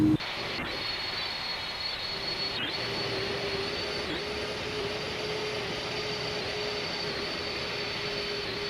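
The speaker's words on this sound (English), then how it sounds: "aircraft still sounds good" Steady, droning whine of the jet engines on an Inibuilds Airbus A300 in the X-Plane 11 flight simulator, with a constant tonal hum and a few faint clicks.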